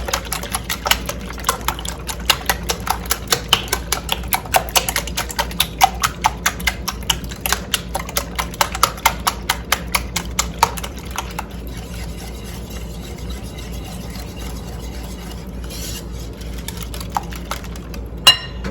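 French toast casserole ingredients being mixed by hand in a bowl, giving a quick, steady run of clinking, tapping strokes close by, louder at first and then thinning out near the end.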